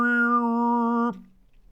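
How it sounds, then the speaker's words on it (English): A short burst of Mongolian throat singing in the siget style: a steady, bright vocal tone with a whistling overtone, held for about a second before it stops abruptly. "And then you have the siget, which is more of a high-pitched whistle."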